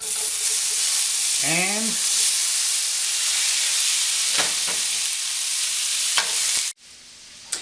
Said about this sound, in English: Next is cooking the salt pork.